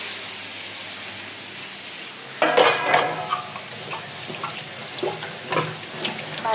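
Koi fish frying in oil in a pan, with a soft continuous sizzle and bursts of stirring and scraping clatter from about the midpoint, close and fairly quiet.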